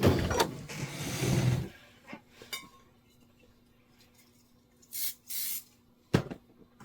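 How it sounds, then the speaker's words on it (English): An aerosol spray can gives two short close hisses onto a piece of red felt for a bench pillow, separated by a brief pause, after some earlier rustling and clatter. "I'm going to give mine a little shot of spray."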